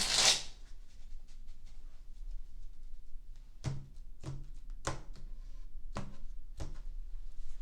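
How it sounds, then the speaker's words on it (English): A brief riffle at the start, then several sharp taps and thumps spaced out over a quiet background as a tarot deck is shuffled and squared. "Let me give this deck one more shuffle."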